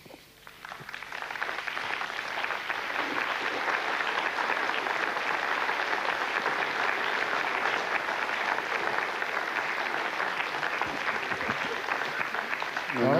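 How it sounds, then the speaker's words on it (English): A room of people applauds at satellite separation during an Ariane 5 launch carrying Stellat 5 and Nstar c. The clapping swells quickly into a dense, sustained ovation that continues strongly to the end. "you heard the applause"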